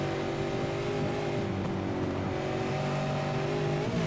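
Several V8 race car engines in an iRacing America's Series race at Belle Isle drone loudly and steadily, with layered engine tones holding constant and a slight pitch shift near the end.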